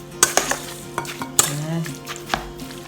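Homemade chicken nugget mixture of ground chicken and breadcrumbs being stirred in a bowl, giving a few sharp utensil clinks and scrapes against the dish over soft mixing sounds, close and alone.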